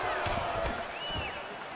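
Crowd noise from a UFC 3 video game fight, a steady broad roar of spectators with rising cheers, heard continuously under fight-game ambience for under two seconds.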